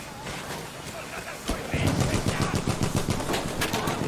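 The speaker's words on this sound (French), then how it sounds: "C'est une mitrailleuse ennemie!" Enemy machine gun in Battlefield 1 multiplayer, loud rapid continuous bursts of fire that grow heavier partway through, with voices calling out over the shooting.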